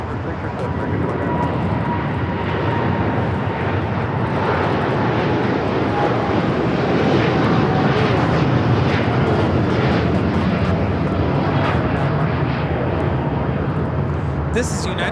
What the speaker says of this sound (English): This is United Airlines 152 taking off to Hong Kong on the 787-9 Dreamliner